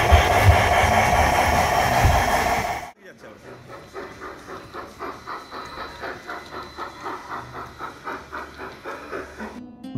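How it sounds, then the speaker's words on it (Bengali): A toy serving train in a train-themed pizza restaurant rolls back along its track with a steady rhythmic clatter and chugging pulses, after a few seconds of loud restaurant noise and a sudden cut. "খাবার তুলে নেওয়ার পরে দেখুন ট্রেনটা আবার ফেরত চলে যাচ্ছে"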